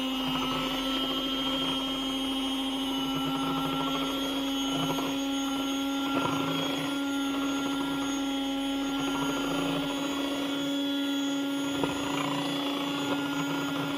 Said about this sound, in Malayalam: ഇനി ബ്ലെൻഡ് ചെയ്യാൻ പോവാണ്